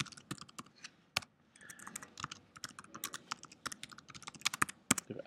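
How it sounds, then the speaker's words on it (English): Quick, uneven keystrokes on a computer keyboard while an email is typed, with clicky taps in bursts and short pauses, close and fairly quiet, with no talking. "I'm going to type this email to Donald."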